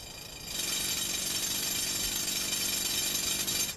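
A drill bores through hard rock during a jade hunt in China, kicking in after a short pause as a loud, harsh, continuous grinding roar that holds steady for several seconds.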